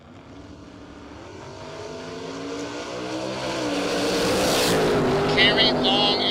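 Drag racing at a strip, with a pickup truck and a second-generation Camaro launching side by side: engine roar builds steadily over six seconds, loud and sustained, with a commentator talking over it.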